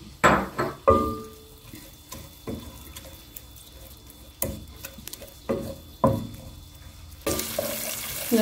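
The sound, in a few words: tomato paste sizzling in oil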